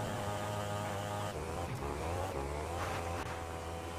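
A motorbike engine drones and revs in the video game GTA 5, a steady, fairly faint low hum with slight rises in pitch, alone without voices.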